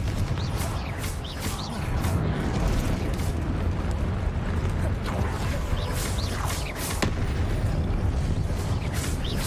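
Repeated blasting-spell explosions in the Hogwarts Legacy video game, loud continuous booms and bursts layered one after another through a dense battle din.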